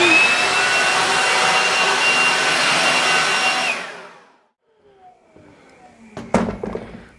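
A vacuum cleaner used to clean out rooms during construction runs as a loud, steady whoosh for a few seconds, then powers down and fades, followed by quiet knocks and a sharp clatter.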